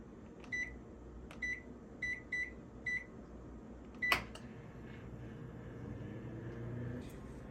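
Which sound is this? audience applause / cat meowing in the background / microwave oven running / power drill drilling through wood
microwave oven running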